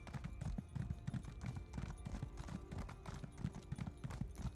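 Horse hooves clip-clopping in a steady, quick rhythm while a mount is ridden across open country in the Elder Scrolls Online game, loud and continuous with no talk over it.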